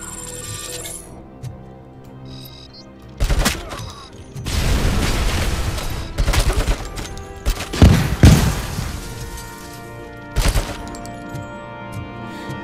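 Machine gun fire in Robocop Rogue City, heard as loud sustained bursts of automatic gunfire with booming impacts, separated by quieter gaps, ending in a final short burst.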